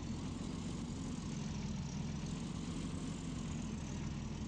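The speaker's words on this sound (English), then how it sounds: "Engine very nicely simulated with the throttle, so you can actually hear the engine rev up and everything." A simulated engine in an old-school video game drones continuously, a steady, loud, propeller-like roar that holds an even level without pauses and with no talk over it.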